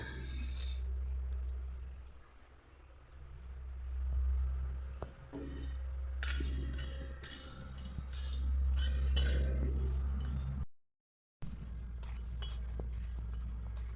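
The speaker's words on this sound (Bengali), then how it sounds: "এগুলোকে আমি শুকনো খোলায় আগে ভেজে নেব" A utensil clinks and scrapes repeatedly against a dry metal wok as whole spices are dry-roasted, over a low steady hum of a gas flame turned down low.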